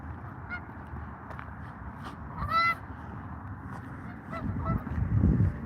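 A goose honks from up above an outdoor street, giving a few short nasal calls, one louder burst in the middle and fainter honks later, over steady low background noise.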